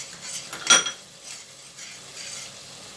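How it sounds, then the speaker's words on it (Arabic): Mashed garlic being sautéed with onion in a pan, with one sharp clink of a utensil against the pan over a faint, low sizzle, quiet and close. "هنزل بالثوم واشوحه كمان مع البصل"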